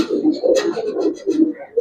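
Palla line Giribaz pigeons coo in a loft, several close, throaty coos coming in quick succession with short gaps between them.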